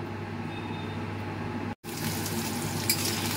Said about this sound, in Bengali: দেখো আমি আগে প্রথমে পনিরগুলো ভেজে নিচ্ছি, হালকা করে ভাজবো, বেশি ভাজবো না।